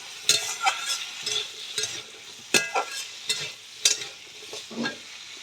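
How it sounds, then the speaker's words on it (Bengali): Potatoes frying in a pan for a Bengali lote fish curry: a steady oily sizzle broken by sharp clattering stirs and scrapes at irregular moments, close and fairly quiet, with no voices. "আলুগুলো ভালো করে ভেজে নেব।"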